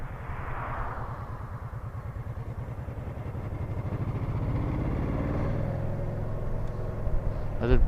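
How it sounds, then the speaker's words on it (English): A vintage Honda PC800 motorcycle engine bogs under load, giving a close, low, labored rumble that slowly climbs in pitch amid steady wind noise. "I am bogging it just a little bit."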